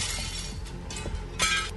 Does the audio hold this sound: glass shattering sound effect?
yes